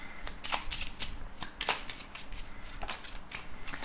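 A deck of Lenormand cards is shuffled for a reading, giving repeated quick riffling flutters and soft slaps at close range, fairly loud and irregular in rhythm, with no voice over them.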